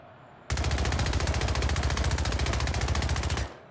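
A submachine gun firing in a video game, one sustained rapid burst of evenly spaced shots lasting about three seconds, loud and close, starting and stopping abruptly.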